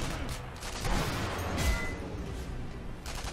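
A muffled sniper rifle report echoes in a Sniper Elite V2 co-op mission, a short dull boom amid low rumbling battle ambience, fairly distant rather than close.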